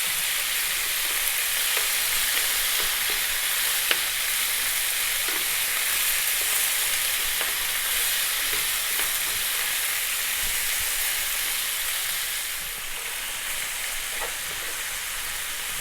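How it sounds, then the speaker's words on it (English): Lamb pieces sear in a pan over high heat, giving a steady, bright sizzle that holds at an even level with faint crackles and stirring, and no voices. "on this high heat, we're going to go for about 4 minutes just to seal and get the lamb a little head start"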